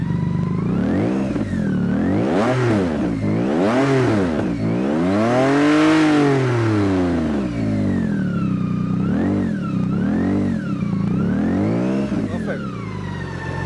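A BMW K1600B with a Remus exhaust is revved repeatedly nearby, pitch swelling and dropping in loud rising-and-falling bursts over a rumbling idle.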